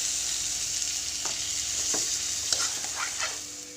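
Peas being stirred into frying masala in a pan for road-style masala sundal, a steady bright sizzle with several soft scraping stirs and clinks of the spoon, close and alone without talking.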